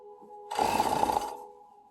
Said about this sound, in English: So I start with one side, and I sew until I get to the pin